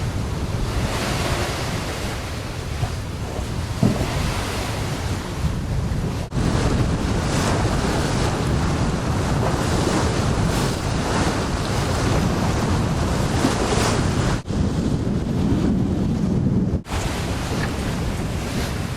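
Steady wind rushing across the microphone over the wash of open water aboard a Nordhavn 56 under sail, loud and continuous throughout, with no voices.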